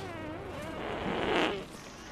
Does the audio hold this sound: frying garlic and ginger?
no